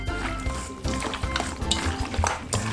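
Spareribs being mixed by hand with fermented black beans in a bowl, giving steady wet squelching and stirring with occasional light clinks, continuous and close, with no talk.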